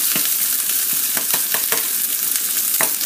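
Onion and garlic fry in a pot for Haitian bouillon, a loud close sizzle with a steady hiss, punctuated by scraping stirs and soft spoon taps, no voices.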